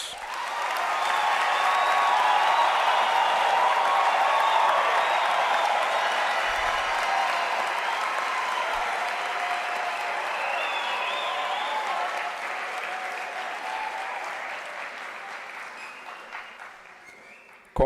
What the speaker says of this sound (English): I want to believe that the graduates deserve a thunderous round of applause.